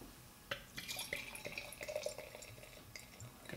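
Alesmith Speedway Stout poured aggressively into a glass, a close splashing, gurgling stream with drips and bubbling fizz, moderately quiet and heard on its own.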